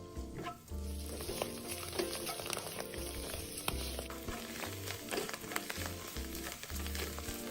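Close, steady sizzling of food stir-frying in hot oil, with occasional clicks and scrapes of a utensil against the pan.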